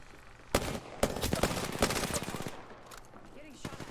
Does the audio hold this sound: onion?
no